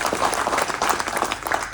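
An audience in an office seminar setting claps together, a short dense burst of applause lasting under two seconds.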